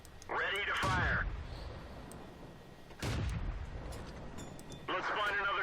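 Tank cannons fire in World of Tanks gameplay: three loud booming shots spaced a couple of seconds apart, each followed by a metallic ringing tail, with voices talking over them.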